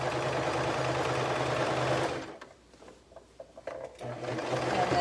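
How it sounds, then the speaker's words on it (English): A sewing machine runs steadily at close range while top stitching around elastic. It stops briefly for a quiet moment with small handling clicks, then starts up again. "top stitching around the elastic."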